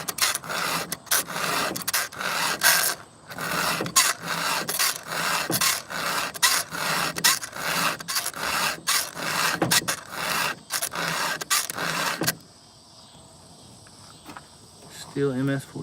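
A file rasps against the chain of a Stihl MS-462 chainsaw with a 28-inch lightweight bar in steady, rhythmic strokes, close and loud, repeating for a while before stopping into quiet.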